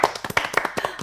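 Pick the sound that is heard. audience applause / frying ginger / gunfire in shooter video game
audience applause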